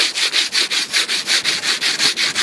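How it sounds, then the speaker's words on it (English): Hand sanding on a bent car fender: a steady back-and-forth rasp of abrasive paper on metal, about a dozen even strokes in a regular rhythm, loud and close with no talking. "Now I'm just sanding with my hand."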